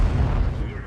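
A tank cannon shot in the World of Tanks video game, a single heavy low boom with a rumbling tail, loud and close, under a voice.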